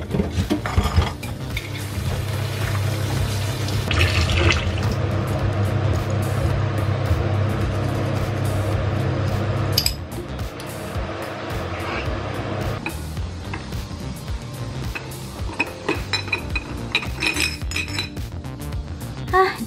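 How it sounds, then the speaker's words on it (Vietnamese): Glass juice jars being washed under a running kitchen tap, with repeated clinks and knocks of glass against glass and the sink over a continuous wash of sound. "Bây giờ thì mình sẽ bóc tách vỏ nhãn bên ngoài và rửa cho sạch sẽ ha."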